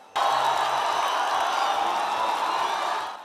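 A crowd in Eldoret, Kenya, watches Eliud Kipchoge's historic Vienna marathon run and cheers in a loud, continuous roar that holds steady for several seconds before easing slightly.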